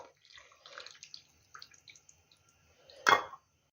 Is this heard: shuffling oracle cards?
no